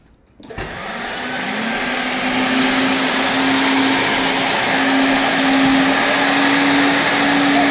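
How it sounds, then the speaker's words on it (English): DuctPro duct cleaning lift vacuum starts up with a sudden loud whoosh after a brief quiet moment, then holds a steady, strong roaring suction with a constant motor hum through to the end. "the lift is going to be what's actually suctioning all that duster and residue out as it hits the entryway"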